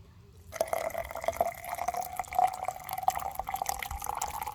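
Water pours steadily into a coffee pot at a campsite near Beaver Lake, Arkansas, starting after a moment of quiet and then continuing as a close, trickling stream with faint dripping.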